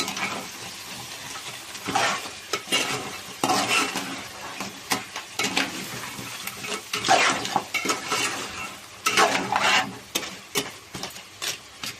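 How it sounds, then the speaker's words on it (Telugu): A spoon stirs crab curry with crab claws and small legs in a pan, scraping and clattering against the metal in irregular bursts over a soft sizzle, close by and with no talking. "పీత డెక్కులు చిన్న కాళ్ళు మొత్తం అన్నీ వేసేసాము తిప్పుదామండి"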